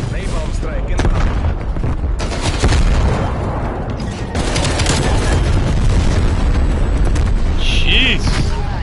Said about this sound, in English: Sending frag grenade. Zidra, napalm strike in front.